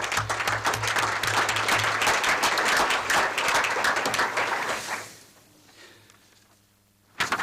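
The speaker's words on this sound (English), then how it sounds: "So let's give them a round of applause." A school board meeting audience applauds the media students broadcasting the meeting, with steady full clapping for about five seconds that then fades away, followed by quiet room tone.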